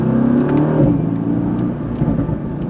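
A 2018 Mercedes-AMG GT V8 in Sport Plus mode drones loudly from inside the car, its low engine note held steady and then shifting slightly as the revs change, with faint ticks above.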